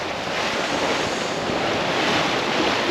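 Wind and waves out at sea aboard a sailing boat, a broad continuous roar of gusting wind buffeting the microphone over washing surf, loud and steady with no voices.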